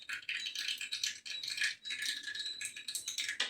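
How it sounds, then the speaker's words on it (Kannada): Mustard seeds crackle and pop in hot oil, tempering for a Kannada bassaru, as dense rapid spatters fill the air close by without pause for a few seconds. "ಸಾಸಿವೆ ಚೆನ್ನಾಗಿ ಚಟಪಟ ಅನ್ನಬೇಕು"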